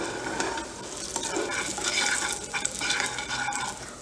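Potatoes and paneer stirred in a pan with salt and red chilli for a Navratri fasting-style aloo paneer, giving a steady scraping, shuffling stir with light sizzle throughout, close and moderately loud.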